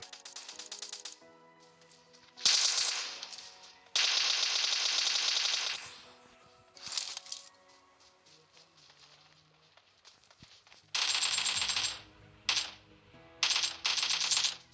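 AKM assault rifle fire in the mobile battle royale game PUBG Mobile, sounding as several sharp automatic bursts of varying length separated by quieter gaps of game ambience, loud and close, with no talking.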